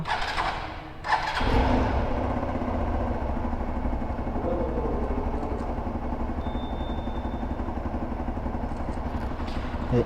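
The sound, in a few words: Hero Xpulse 200 4V motorcycle engine starting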